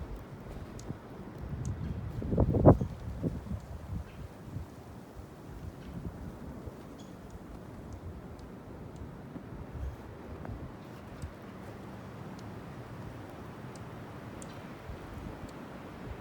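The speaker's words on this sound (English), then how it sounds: "Ooh, it's coming down harder now. Hear that wind?" Blizzard wind rumbles and gusts low and steady outdoors, with one stronger buffet early on, then a constant muffled roar against the microphone.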